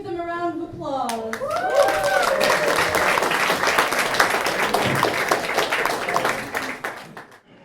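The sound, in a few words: wedding guests applauding the best men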